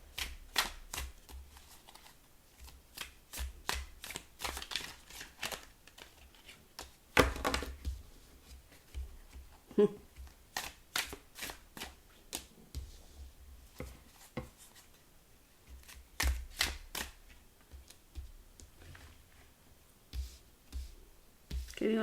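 Tarot cards being shuffled and handled: a string of crisp riffling snaps and soft slides and taps, close and fairly quiet, with occasional brief speech between them.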